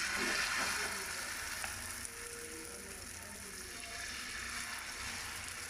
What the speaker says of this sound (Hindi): अभी हम तवे पे थोड़ा घी लगा लिया है, और साथ ही हम अभी शुरू करते हैं माशाल्लाह अंडा परोठा।